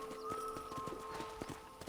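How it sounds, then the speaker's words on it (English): Horse hooves clip-clop at a brisk, regular walking rhythm in Red Dead Redemption, quiet and moderately close over a faint background hum. "let's see if you can still ride a horse"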